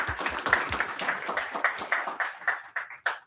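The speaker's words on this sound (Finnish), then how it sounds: "Aplodit vielä Leolle" A small group applauding after a construction-industry startup pitch, a short burst of clapping that thins out and fades toward the end.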